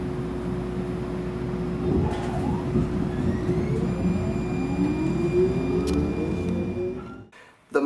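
A MAX light rail train pulls away. A steady close rumble rises with whining motor tones that climb in pitch as it gathers speed, then cuts off abruptly near the end.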